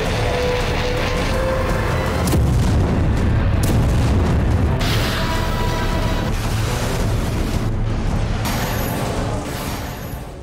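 Missile strikes on Ukraine, apparently Russian weapons including Kinzhal missiles, produce dense rumbling booms and explosions, a sustained loud blast-filled roar with sharper bursts throughout, with no talk.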